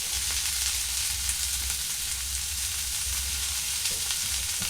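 Tomatoes sautéing in a pan over a low gas flame for tomato rice, a constant close crackling sizzle with faint stirring scrapes and no voices.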